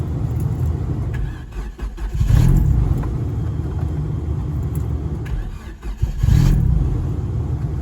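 A turbocharged Hyundai daily driver project car is cranked over and catches twice, each start rising into a loud, close, rumbling rev before settling to a rough idle, with no talking.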